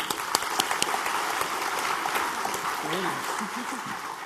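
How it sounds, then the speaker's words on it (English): An audience claps for a speaker at a conference session, a brief burst of applause with a few crisp nearby claps and a voice speaking partway through. "A warm round of applause for Dr."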